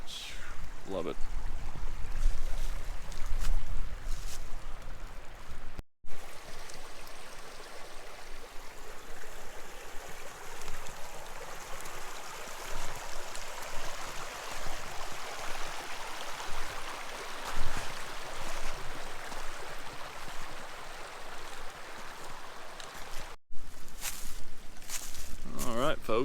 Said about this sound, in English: Just cascading, tiered little waterfall coming down the bluffs, the hillside here.